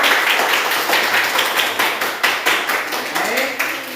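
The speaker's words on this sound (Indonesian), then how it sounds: "Ya, tepuk tangan dulu untuk kelompok 1." A classroom group of students gives a round of hand clapping for the first presenting group, a dense, fairly loud patter of claps that holds steady for a few seconds.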